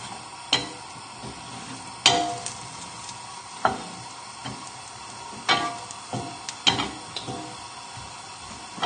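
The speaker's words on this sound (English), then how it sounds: "I can just start hearing the pan just starting to sizzle ever so slightly." A pan sizzles softly and steadily, punctuated by sharp clinks and scrapes of a utensil stirring, close by.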